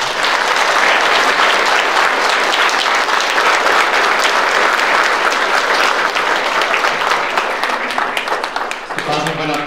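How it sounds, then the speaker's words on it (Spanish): A crowd at an outdoor church festival mass for the Holy Cross applauds loudly and continuously, a dense clatter of clapping that fades near the end as a voice begins to speak. "Fuerte aplauso a la Santa Cruz."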